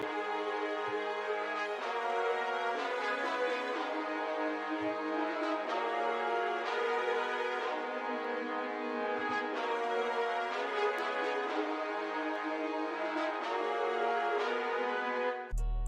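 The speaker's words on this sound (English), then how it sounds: "we have this legato tremolo preset from the string section in X Band." Legato tremolo strings from a string section preset carry a melody over a brass pattern in an orchestral beat, full and continuous with swelling chords and no voices.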